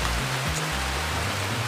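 Steady, dense downpour of heavy rain at an outdoor location, a loud continuous hiss with a low rumble underneath and no voices.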